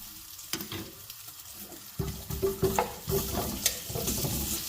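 A spoonful of ajwain seeds drops into hot oil already used for frying fish, bursting into a loud sizzle partway through, with crackling pops and stirring scrapes that continue close up.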